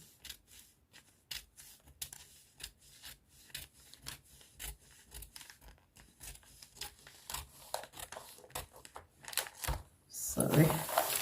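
Scissors trim a paper pencil skirt pattern, making a run of short, soft snips and rubbing sounds close by. A louder rustle of paper comes near the end.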